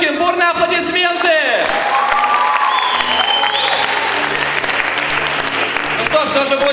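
A student-initiation concert crowd of the Faculty of Information Technology, 2016, breaks into loud, sustained applause and cheering to welcome new student organizers onto the stage, with a host's voice and scattered shouts over the clapping.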